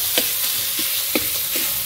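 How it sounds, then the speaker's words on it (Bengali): Spices being sautéed in a pan for a prawn curry, a close steady sizzle with several soft, evenly spaced scrapes of stirring and no talk. "এখন মশলা কষানো হচ্ছে"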